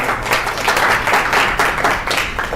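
A roomful of workshop attendees clapping, a brief burst of close, lively applause in uneven waves.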